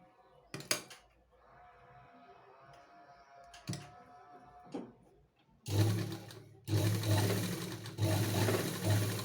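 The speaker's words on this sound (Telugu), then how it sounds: "ఇప్పుడు మనం స్టిచ్చింగ్ చేసుకుందాం" A sewing machine stitches the waist belt onto a blouse over lining cloth, with a few short bursts early on, then two long loud continuous runs of stitching in the second half.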